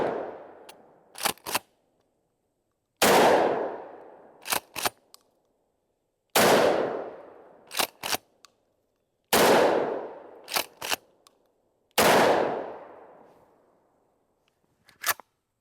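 Gunfire from a tube-fed home defense shotgun with 7+1 capacity: five loud, booming shots spaced a few seconds apart, each with a long decaying tail and followed by quick sharp mechanical clacks of the action cycling.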